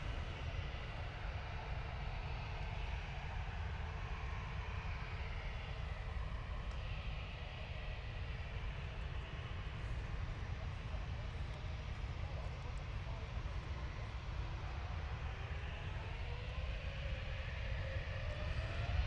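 Scandinavian Airbus A320neo departing Manchester Airport for Stockholm Arlanda, a sustained broad engine roar heard from a distance, steady and unbroken, with a rising whine and occasional faint voices in the background.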